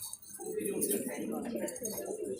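Pigeons coo at a pigeon-flying tournament loft, a low, soft rolling murmur that runs throughout, faint and under someone talking.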